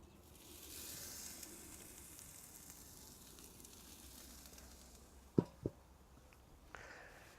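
Garlic- and herb-marinated lamb hearts in olive oil sizzling faintly in a pan, a soft continuous hiss broken by two sharp clacks near the end.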